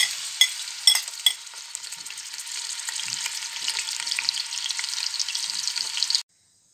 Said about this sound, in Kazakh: Қазанға майымызды қыздырып, етімізді салып қуыра бастаймыз.